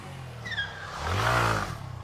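A motorcycle engine revs up as the clutch is released for a rear-wheel spin, a rising mid-pitched roar swelling over about a second before settling back to a steady idle.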